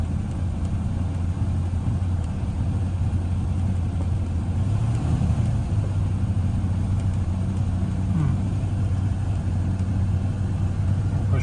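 A 1969 Rover P5B coupe engine idles at a steady, even drone, with a low rumble holding constant and a couple of slight wavers in pitch, heard close and without speech.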